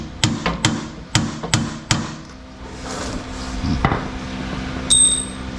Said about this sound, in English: See if I can center punch this the best that I can.